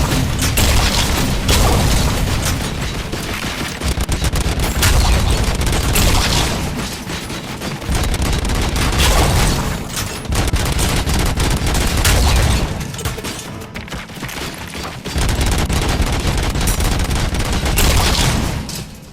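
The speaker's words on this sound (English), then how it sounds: "Alright, let's take the grenade launcher because" Grenade launcher blasts and gunfire fill a firefight in the game RoboCop: Rogue City, with loud, dense volleys and heavy booms surging in repeated waves without pause.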